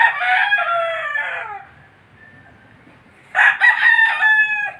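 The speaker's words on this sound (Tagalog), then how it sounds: "Ito yung brood stag po natin. Dinker sweater po." A Sweater-breed brood stag rooster on a game farm crows twice, close and loud, each long harmonic call standing alone with a quiet pause between.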